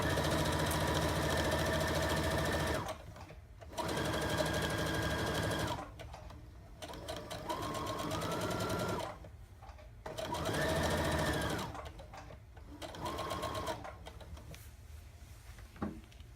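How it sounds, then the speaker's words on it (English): A sewing machine runs a top stitch along a pair of shorts in several steady bursts of a few seconds each, separated by short pauses, with a brief back stitch near the end. The machine sounds close and clear, and no one speaks over it. "I just finished sewing the top stitch right along here."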